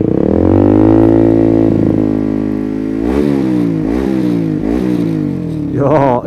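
A Honda CBR 150R fitted with a Tridente F-19 Thunderhawk exhaust, switched from silent to racing mode, holds a loud, steady idle drone, then is blipped hard in a series of sharp revs near the end.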